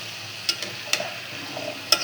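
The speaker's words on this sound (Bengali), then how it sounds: "পেঁপেটা তেলের মধ্যে দিয়ে একটু ভাজা ভাজা করে নেব" Papaya pieces frying in oil with spices, a quiet sizzle under a few sharp clinks and scrapes of a spoon stirring in the pan.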